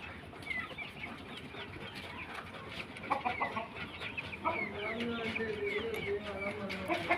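Aseel chickens cluck in a coop, repeated near clucks and calls over a busy background, with faint voices talking.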